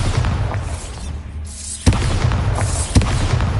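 Bombarda spell blasts in the game Hogwarts Legacy: two sharp booming impacts about a second apart over a steady rumbling background.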